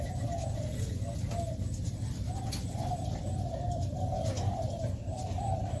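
Racing pigeons coo repeatedly in soft, rolling calls close by, one phrase after another over a constant low background hum.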